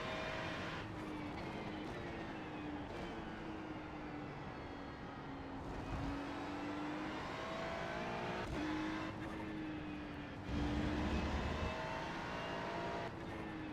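Ferrari 296 GT3 race car engine lapping Algarve International Circuit in iRacing, the engine note rising and dropping through gear changes, with another car roaring past near the end.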